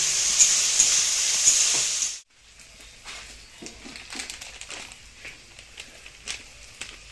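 Onion, garlic and chili sizzle and fry in a pan, a loud bright hiss for about two seconds, then a quieter spattering crackle with occasional stirring sounds, close and without talk.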